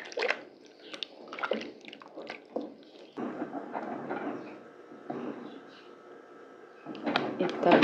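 Thick corn porridge (curau) made with milk is stirred in a pot, giving wet squelching and sloppy scraping sounds in irregular bursts, close and moderately quiet.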